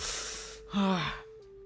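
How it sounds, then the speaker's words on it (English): A person yawns once, a breathy inhale rising into a drawn-out, voiced yawn, close and fairly quiet, preceded by a brief hiss. "Stop yawning."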